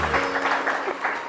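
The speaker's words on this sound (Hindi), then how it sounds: "सलमा के लिए बहुत सारी तालियां" A studio audience on a television morning show claps briefly, a short, moderately loud patter of applause.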